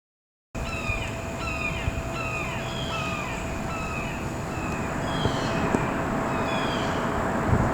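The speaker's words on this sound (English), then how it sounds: "you're hearing some blue jays and some red-shouldered hawks and some traffic" Outdoors, several blue jays and red-shouldered hawks call in repeated harsh, descending cries, some close and some farther off, over a continuous wash of distant traffic that swells slightly toward the end; no one speaks.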